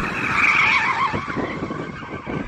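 A BMW M240 drifting, its tyres skidding in a loud sustained screech that wavers and pulses under the engine's roar across the whole stretch, close and dominant.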